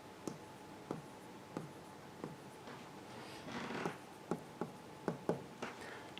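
Chalk or marker strokes on a board as a Java array statement is written out during a classroom lecture: a series of short, distinct taps and scrapes at irregular intervals over a quiet room hum, with no talking.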